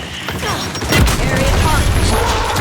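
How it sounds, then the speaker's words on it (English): A frag grenade blows up in Gears 5 team deathmatch: a heavy boom lands about a second in over continuous gunfire and battle noise, with game voices mixed in. "Throwing frag!"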